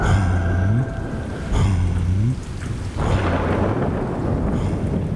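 Heavy rain pours steadily while rolling thunder rumbles through it in repeated low swells, loud and close, with no voices.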